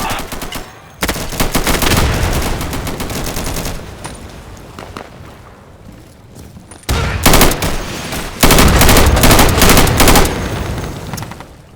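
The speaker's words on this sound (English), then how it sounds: "Should try burst fire." Rapid bursts of automatic gunfire in the shooter game Insurgency, loud and close, coming in dense clusters with a quieter stretch of scattered shots midway.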